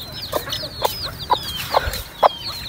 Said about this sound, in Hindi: ये देखें बहुत ज़्यादा जो है ना मुर्गी मुर्गे रखे हुए हैं ना